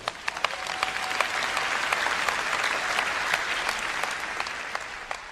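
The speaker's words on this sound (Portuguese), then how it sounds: "Vamos, aplaudir ao Rei da Glória." A church congregation applauds together during a Portuguese-language sermon, a steady wash of dense clapping at moderate distance that holds for about five seconds with no one speaking over it.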